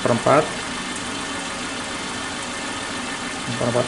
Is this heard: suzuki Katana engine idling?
yes